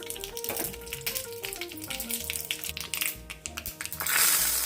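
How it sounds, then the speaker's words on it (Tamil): Mustard seeds crackle and pop in hot oil while tempering for drumstick rasam, a busy run of small sharp snaps that swells into a denser sizzle toward the end. "கடுகு வெடிக்கட்டும் கடுகு வெடிக்கிறது"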